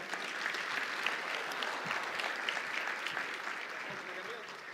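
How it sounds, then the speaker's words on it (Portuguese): Crowd clapping in a round of applause for the workers at a Portuguese-language talk, dense and steady throughout with no pauses. "Uma salva de palmas para os trabalhadores da última hora."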